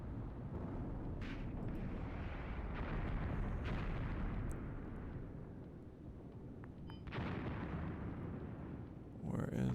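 Rolling booms and rumbling blasts of mortar fire in a combined-arms military video game set in an Iran invasion operation, a continuous barrage of thuds with a voice talking over it.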